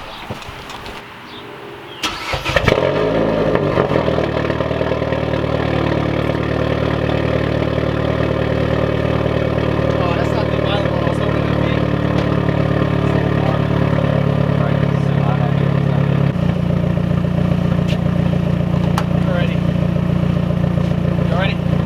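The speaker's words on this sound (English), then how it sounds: "You guys ready for cold start?" A modified Mazdaspeed3 cold-starts with a crank and catch, then idles loud and close with a rough, rumbling drone that steps down as revs settle, while people talk nearby.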